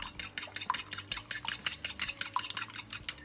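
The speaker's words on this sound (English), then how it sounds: "using a fork, I'm going to whisk those eggs." A fork whisks eggs briskly in a bowl, giving a rapid, steady run of close, bright clinks and scrapes, about five or six strokes per second, with no talking.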